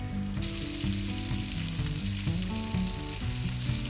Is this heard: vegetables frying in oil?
yes